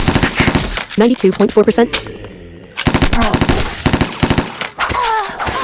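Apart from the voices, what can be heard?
MP5 burst fire gunshots from a video game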